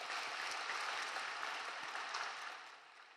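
A church congregation at a Korean Full Gospel service in Incheon claps steadily in a dense, even applause that holds for a few seconds and then starts to fade, somewhat distant in the room.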